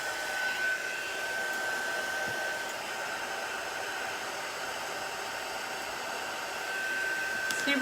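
A dryer runs steadily at close range, drying a chalk craft piece. Its airy whooshing roar holds constant for the whole stretch, with no talking.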